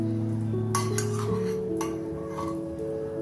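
A metal spoon clinks against a pot three or four times in short, bright taps while ghee is added. The taps ring over a steady kitchen hum and soft background tones.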